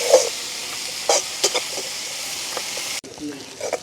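Onion and green chilli frying in a pan on a village kitchen stove, a continuous sizzle with scattered stirring scrapes and clinks, close and clear with a short pause near the end.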